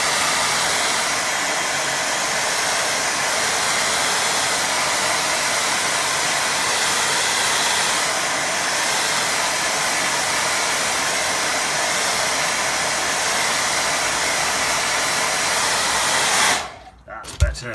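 A hair dryer blows a loud, steady rushing whoosh for about sixteen seconds while drying a watercolour painting, then cuts off abruptly, leaving a few small knocks.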